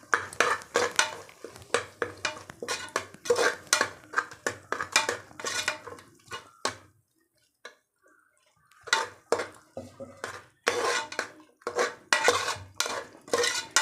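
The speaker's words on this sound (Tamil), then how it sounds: "1/2 கரண்டி நல்ல கெட்டி தயிர் இதில் ஊற்றி அதையும் சேர்த்து நல்லா மிக்ஸ் பண்ணிக்கலாம்" Thick curd is stirred into tomato rice in a pan; a spoon clatters and scrapes in quick repeated bursts, breaks off into a brief quiet gap, then resumes scraping just as busily.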